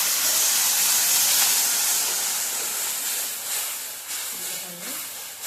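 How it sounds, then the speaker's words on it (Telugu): Tamarind boiling down in a pot of water for Andhra gongura pickle, giving a steady broadband hiss and bubbling simmer throughout, with faint voices in the background. "ఇప్పుడు చింతపండు ఉడికించుకోండి"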